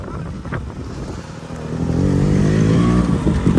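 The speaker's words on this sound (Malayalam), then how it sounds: "കുറെ പേര് ബൈക്കിൽ പോകുന്നുണ്ട്" Motorcycles ride by near the seashore at night, engines rising into a loud, close revving drone that swells and holds, with wind buffeting the microphone.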